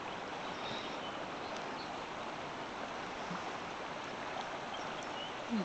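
Creek water flowing beneath a coal bridge, a steady broadband rush that stays even and continuous throughout without voices.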